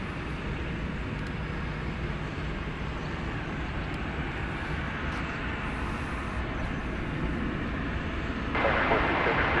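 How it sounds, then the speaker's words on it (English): A Frontier Airbus A321neo arriving from Denver at DFW Airport at night gives a steady jet rumble that swells louder near the end, under a commentator's voice. "we will be seeing Frontier Flight 2550 from Denver, an Airbus A321neo"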